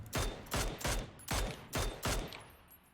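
Automatic rifle fire in the PUBG video game, six evenly spaced loud shots roughly half a second apart, each with a sharp crack and short tail, ending in a fading echo.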